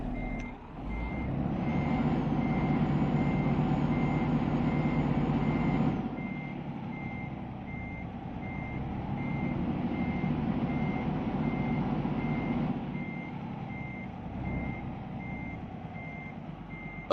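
A UK truck in a driving-school video game reverses with a steady, evenly spaced electronic beep under a loud diesel engine drone, which drops in level partway through while the beeping continues.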